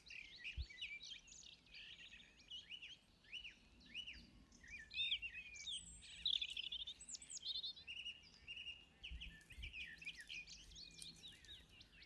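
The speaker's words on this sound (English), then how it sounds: "Nothing but bird song." Several birds sing and chirp in the Peak District countryside, with overlapping songs and calls through the whole stretch. The sound is fairly distant and soft, with a faint low rumble underneath and no voices.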